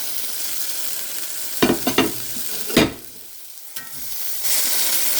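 Garlic and sausage frying in a pan, a soft continuous sizzle broken by several sharp scraping stirs and clanks of a utensil, then a brief quiet gap before the sizzle swells again.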